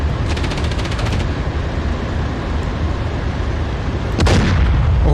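In DCS World, a tank's main gun fires armor-piercing rounds amid steady heavy engine rumble, with a rapid burst of machine-gun fire early and one loud, sharp boom toward the end.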